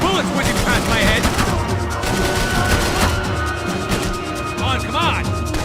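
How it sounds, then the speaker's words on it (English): Gunfire in the video game Max Payne 3: rapid bursts of shots and fusillades with bullets whizzing past and dense battle clutter, loud and continuous throughout, with game-character voices shouting over it. "I can't concentrate with bullets whizzing past my head!"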